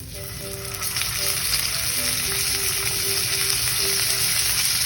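An affordable steak sizzles loudly in a hot pan, a dense, continuous close-up frying hiss with crackling spatter throughout and no talking.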